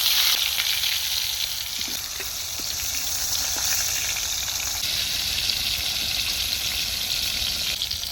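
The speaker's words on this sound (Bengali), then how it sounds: "পটল ভাজা ছাড়া হচ্ছে" Pointed gourd (potol) pieces frying in hot oil in a kadai, giving a steady, close sizzling hiss that holds evenly throughout with no voices.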